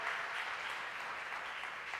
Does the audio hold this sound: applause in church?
yes